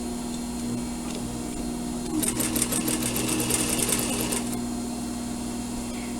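A sewing machine back tacks over a stitching line while sewing a surgical scrub cap, a rapid, steady run of stitching lasting a couple of seconds, close and clear, with quiet room hum before and after.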